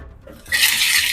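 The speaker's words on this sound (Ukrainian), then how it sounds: "Хорошо прожарюємо його" Bacon dropped into a pan with onions bursts into a loud, close sizzle after a brief quiet start, a dense bright crackle that continues steadily to the end.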